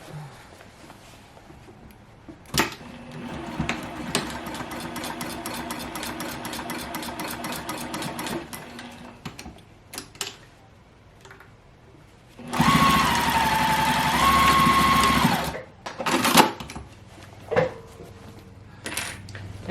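A Ricoma EM101 embroidery machine stitching a placemat pouch runs in a rapid, steady mechanical whir, stops, then sews again in a louder burst, with clicks and handling knocks in between.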